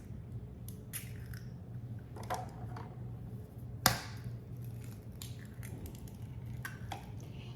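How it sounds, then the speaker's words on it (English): Two eggs cracked into Jiffy corn muffin mix, two boxes' worth: close, sharp cracking taps and wet squishing, a crisp snap near the middle, with soft clinks and shell sounds, no talking. "I'm going to add 2 eggs."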